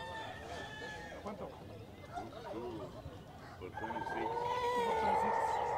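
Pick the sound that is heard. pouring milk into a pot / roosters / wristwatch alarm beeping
roosters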